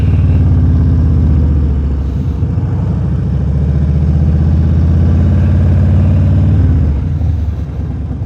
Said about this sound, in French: Le gros old truck.